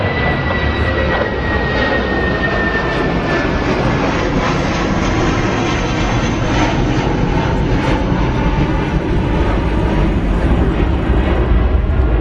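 An airliner takes off from runway 27 right at London Heathrow with a loud, sustained jet roar that holds steady throughout and dominates the scene. No voices are heard.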